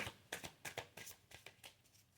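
Quick bursts of tarot cards being shuffled, about eight soft riffling flutters in an uneven rhythm, close and quiet.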